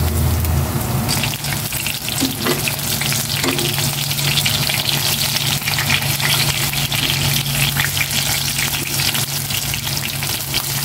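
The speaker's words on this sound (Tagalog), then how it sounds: "ito na mga hito, prito ko na." Catfish fries in hot oil, giving a loud, steady, crackling sizzle that runs unbroken throughout with no voices.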